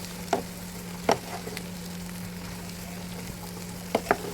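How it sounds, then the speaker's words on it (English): Broad beans and French beans fry in a pan with a soft, steady sizzle, while a few sharp clinks and scrapes from stirring cut in at irregular moments. "Let us give a good stir"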